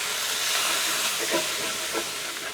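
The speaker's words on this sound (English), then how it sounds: "Little splash and deglaze." A loud, steady sizzling hiss of white wine hitting a hot pan to deglaze it, with a couple of brief bubbling bursts, no talking.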